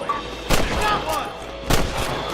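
Gunfire in a video game shootout at Pike's Basin: two sharp, loud gunshots about a second apart, with a voice in the background.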